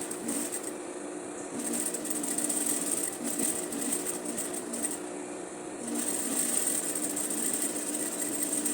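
Sewing machine running steadily while stitching bias tape along a blouse with Japanese-style sleeves, a continuous close whirring that dips briefly twice as the stitching pauses and resumes.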